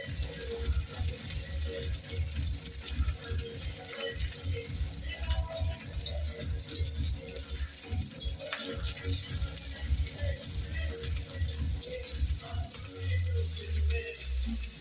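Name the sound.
ginger garlic paste frying in a pan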